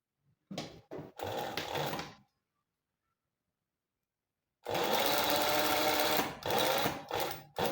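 Sewing machine stitching facings to a jacket lining, several short bursts at first, then a long steady run after a silent pause, close and loud with no voices.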